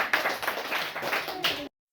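A group claps together in a brief round of applause in a classroom during a maths lesson, steady dense patter for under two seconds before cutting off abruptly.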